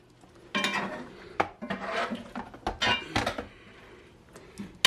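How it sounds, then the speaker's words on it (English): A pan of oxtail is pushed into a kitchen oven with scraping metal, rubbing and a series of sharp clanks and knocks, irregular and close, ending with a final clatter. "So now I'm gonna put it in the oven."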